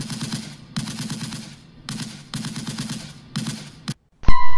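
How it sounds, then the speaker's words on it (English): Rapid bursts of gunfire in the Judge Dredd video game, loud and sustained, broken by short pauses, ending in a sharp electronic tone. "Gunfire not penetrating."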